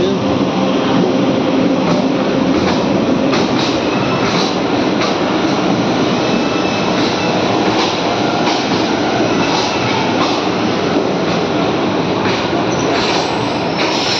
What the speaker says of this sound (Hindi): आखिर इंतज़ार करते करते 10:30 बजे ट्रेन आई।